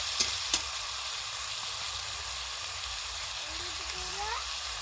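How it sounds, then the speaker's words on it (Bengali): Spices frying in a pan for a mutton and egg curry, with water added, give a steady soft sizzle at moderate level, with a few faint clinks near the start and a quiet voice-like tone late on. "জল দিয়ে মশলাটা দিচ্ছি"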